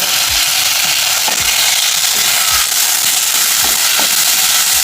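Chopped tomato and browned onion sauté in a hot pan, giving a steady, close sizzle with faint stirring scrapes and occasional soft clicks throughout, with no voices.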